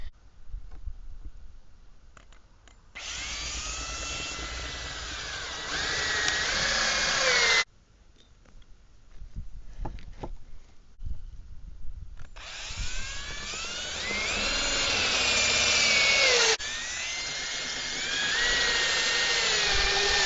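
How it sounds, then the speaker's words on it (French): A power drill drives screws into the corners of a wooden garden bed in two long whirring runs, the motor pitch rising as the screws bite, close and fairly loud, separated by a quiet pause. "avec la perceuse qui est ici et les vis qui sont là, je vais juste visser, vous savez, aux 4 coins"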